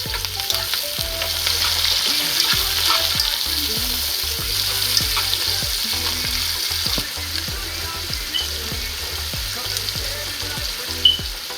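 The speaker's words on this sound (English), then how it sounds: "yellow pepper, red pepper, thyme, onion. So I'm gonna go ahead. Alright guys, I'm gonna have them sauteed." Yellow and red peppers, thyme and onion sauté in a pan for a Jamaican cabbage and saltfish dish, a loud continuous frying sizzle broken by regular scraping stirs of the spoon throughout.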